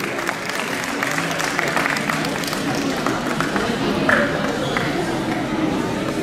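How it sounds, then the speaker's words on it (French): Applause from the audience fills the room at a race awards ceremony, steady dense clapping with a voice speaking over it. "Vous pouvez vraiment l'applaudir."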